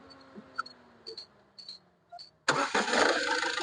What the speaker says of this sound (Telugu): సింగిల్ సెల్ఫ్ స్టార్ట్ అవుతుంది సార్.